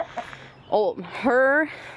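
A chicken clucks and gives a couple of short, rising squawks, close by and fairly loud.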